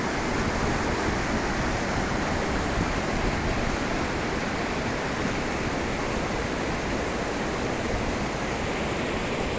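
Heavy water pours steadily in a dense, unbroken roar, loud and close, with no voices over it.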